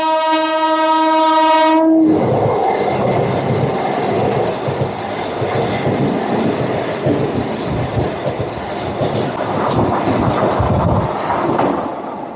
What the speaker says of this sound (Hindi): यहाँ पर हम क्रॉस कर रहे हैं वंदे भारत को